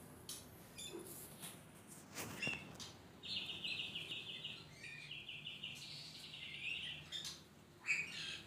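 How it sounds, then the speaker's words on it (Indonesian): Faint wild birds chirp outside an aviary in a series of quick high twittering calls, repeating in short runs through the middle of the stretch over a soft, steady outdoor background. "di luar sana juga ada burung yang nyamperin ke aviary"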